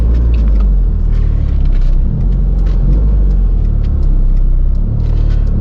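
A car drives through the town of Alligator Pond in Manchester, Jamaica, heard from inside as a loud, steady low engine rumble with road noise and occasional light rattles.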